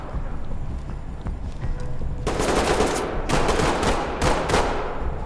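Gunfire in the tactical shooter Ready Or Not, starting with a low rumbling background and then loud bursts of rapid shots in several clusters, close and harsh.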